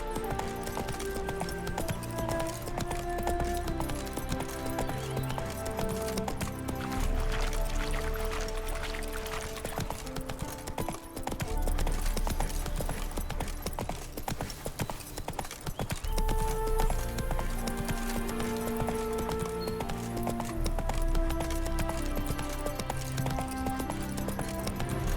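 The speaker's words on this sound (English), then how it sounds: "Spooking my horse." Horse hooves clip-clopping in The Witcher 3, a rhythmic trot running under a constant musical score through the whole stretch, moderately close with no break in pace.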